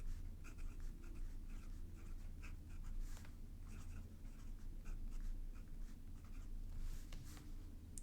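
A fountain pen with an Esterbrook Estie journaler nib scratches across paper in steady strokes, with soft, light scraping at close range over a constant low background hum.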